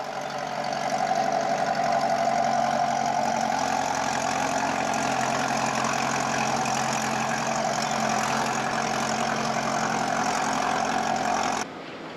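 A forestry machine's engine runs steadily at a demonstration of forestry and environmental machinery, a constant mid-pitched drone holding even for about eleven seconds before cutting down abruptly.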